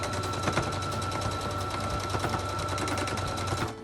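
A sewing machine stitching fabric ear savers runs continuously, its fast needle clatter forming a steady mechanical rattle heard up close with no talking.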